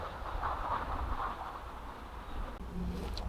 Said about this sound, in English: Massive, huge train.